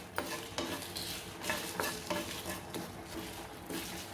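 Sesame and coriander seeds fry in a pan with a steady sizzle, while a spoon scrapes and stirs through them in a regular rhythm, close and clear with no talking.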